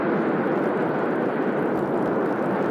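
A fixed-wing jet roars loudly and steadily during takeoff, a dense continuous engine rush with no talk over it.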